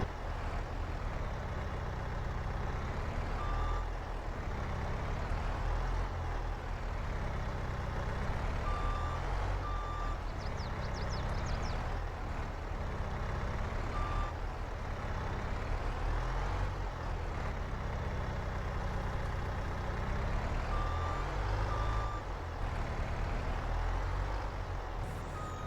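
A truck in Farming Simulator 22 hauling fill for a landscaping job reverses with steady, evenly spaced backup beeps over a constant low engine rumble, loud and close throughout.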